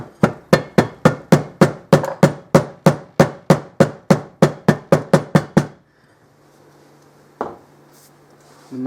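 About twenty rapid, even hammer taps ring out close and loud while a Morini motorcycle clutch part is knocked down into place, followed by near silence and one brief clank.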